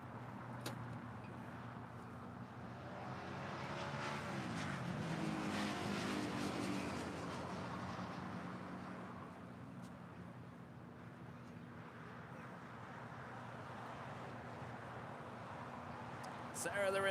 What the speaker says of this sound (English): Emirates A380 continuing his taxi on Alpha here on the south side.